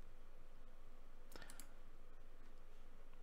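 Soft, distant key clicks from a Logitech G19 computer keyboard, a short burst of typing in the middle of an otherwise quiet stretch.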